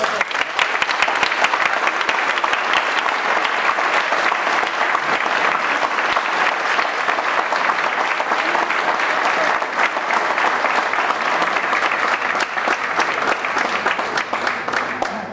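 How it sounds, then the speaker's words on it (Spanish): An audience at a Christmas gathering breaks into sustained, dense applause that carries on evenly for the whole stretch, with hands clapping loudly and no letup. "Por favor, un aplauso."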